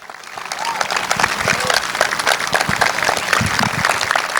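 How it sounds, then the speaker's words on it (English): A speedway crowd gives sustained applause for a Hall of Fame inductee, dense steady clapping throughout with a few crowd shouts mixed in, fairly loud and close. "how about a big round of applause?"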